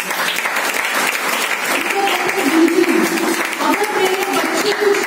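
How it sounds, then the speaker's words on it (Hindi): Audience applauding at a talk for the speakers, dense sustained clapping throughout with voices faintly mixed underneath. "इसके लिए प्रोफेसर वसुपाल जी को और डॉक्टर रत्ना मैडम के लिए तालियां।"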